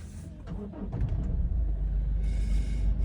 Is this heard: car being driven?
yes